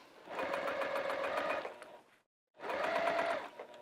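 Sewing machine stitching a seam on a fabric pouch in two steady whirring runs separated by a brief silent pause, loud and close with no voices.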